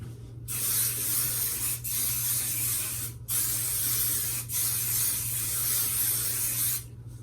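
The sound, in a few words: hairspray being sprayed all over hair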